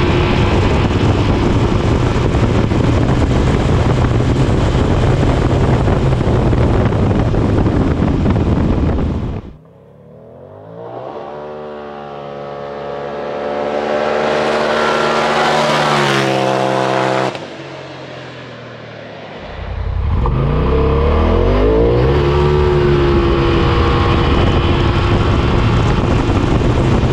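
A 2020 Polaris RZR Pro XP base model runs a 0 to 60 sprint, a loud engine roar that drops away, then climbs through a long rising rev sweep before cutting back and roaring again, heard close throughout.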